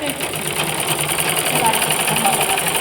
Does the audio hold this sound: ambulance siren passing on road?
no